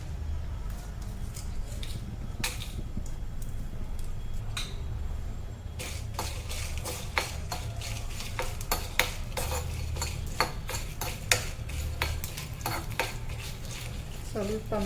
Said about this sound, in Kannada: ಮೆಣಸು ಸ್ವಲ್ಪ ತುಂಡು ಮಾಡಿ ಹಾಕ್ತಾಯಿದ್ದೀನಿ, ಹುರ್ಕೊಳ್ಳಿಕ್ಕೆ